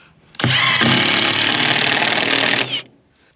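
A power drill drives a screw into poplar board-and-batten siding, giving one loud, close, steady whine of about two and a half seconds. It starts abruptly and cuts off sharply, with no voices.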